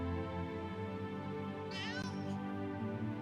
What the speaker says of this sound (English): Ooh, there's a cat.